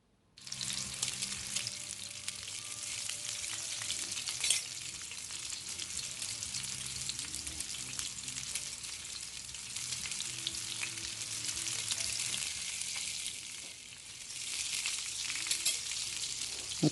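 Panko-crusted pork chops frying in a pan, a loud continuous crackling sizzle close up that holds steady throughout with slight dips, no voices.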